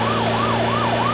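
Ambulance siren wailing in a steady, continuous rising-and-falling sweep, loud and close, with a low mechanical hum underneath and no talking.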